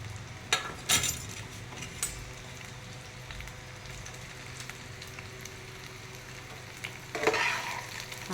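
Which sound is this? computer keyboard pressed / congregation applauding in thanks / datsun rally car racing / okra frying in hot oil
okra frying in hot oil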